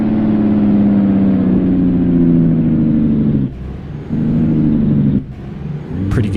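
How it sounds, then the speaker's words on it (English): Engine brake on a 1949 Peterbilt 350 in American Truck Simulator, a loud close diesel rumble with a steady low drone that cuts off abruptly twice before resuming briefly. "pretty good engine brake."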